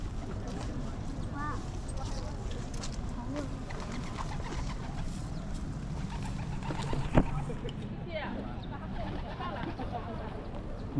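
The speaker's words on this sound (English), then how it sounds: "Let's see if they scare the pigeons." Pigeons coo softly in Mont Fortress Park in Macau, faint, low murmuring calls beneath steady outdoor ambience, wind and distant activity, with a person speaking quietly nearby.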